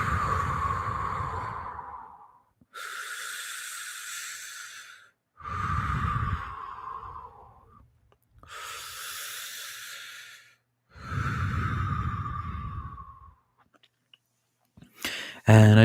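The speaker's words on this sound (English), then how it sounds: "So first, let's take a few deep breaths." Five slow, deep breaths during a guided relaxation, each a long audible inhale or exhale lasting about two seconds, separated by quiet pauses, close and clear with no talking.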